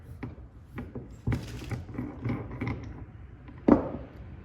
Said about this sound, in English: Hit the socket on there.